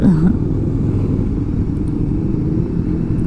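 Ducati and KTM motorcycles riding past in a line on a mountain road in the Dolomites make a steady, loud engine rumble and drone throughout, with no talking.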